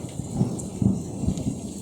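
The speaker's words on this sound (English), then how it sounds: "I think that the closer the lightning, the louder the thunder," Thunder rumbles from a close lightning strike during a heavy storm, with deep low rolls and cracks over the steady hiss of pouring rain nearby.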